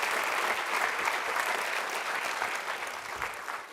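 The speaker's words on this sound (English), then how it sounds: "if you would give Dr. Hanich another round of applause for his organizational efforts" Audience applause at a Longwood seminar on drug resistance, a dense, steady wash of many hands clapping that holds evenly for the whole stretch and eases off slightly toward the end.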